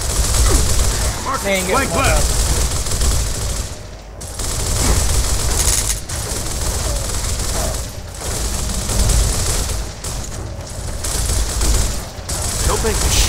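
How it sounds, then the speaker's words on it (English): Heavy gunfire rattles almost nonstop through a Gears of War firefight, loud dense bursts with brief lulls, while a player talks over it. "Heavy fire."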